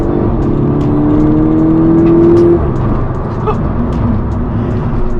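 Engine of a two-door VW Golf GTI MK6 running with a steady loud whir and a rising revving tone that holds for a couple of seconds before settling back, close and continuous throughout.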